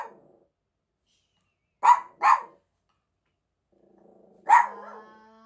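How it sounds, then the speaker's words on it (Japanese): Three sharp dog barks, two in quick succession and then a third after a pause, close and loud against an otherwise quiet room. "吠えられてます"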